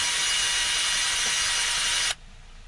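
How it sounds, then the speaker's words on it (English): A soft wire brush, likely power-driven, scours debris from inside a car's control arm bore in a loud, steady, hissing whir that stops abruptly near the end. "I'm going to take a fairly soft wire brush and I'm going to try to clean the inside of it."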